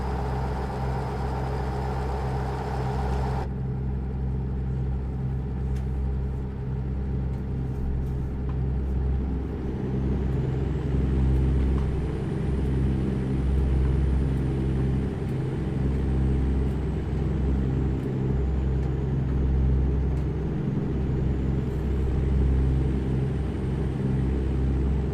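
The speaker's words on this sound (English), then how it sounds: "Now I'm going to let y'all hear the sounds of a beautiful diesel truck." A diesel truck engine in the American Truck Simulator video game, heard in Louisiana, gives a deep, steady idling rumble with a smooth throb that drones on unbroken, loud and close, with no talking.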